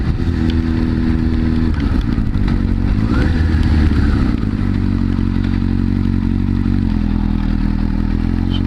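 A high-powered liter bike motorcycle rides on a wet freeway, its engine droning steadily and loudly with a brief rise in revs and pitch midway, close to the microphone with road and wind noise throughout.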